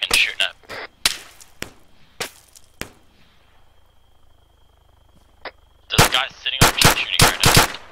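Gunfire in the military shooter ArmA III: scattered sharp single shots and short bursts, a quiet gap with a faint tone, then a dense rapid volley at the end.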